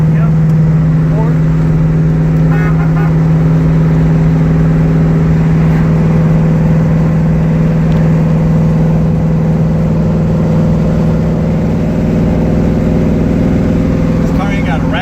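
A 1970 Chevelle SS's V8 engine hums steadily from inside the car while cruising down the road, a strong low drone with a lumpy idle character, with occupants talking over it at times.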